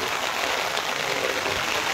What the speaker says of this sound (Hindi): आप देख सकते हैं जोरदार जो बारिश हो रही है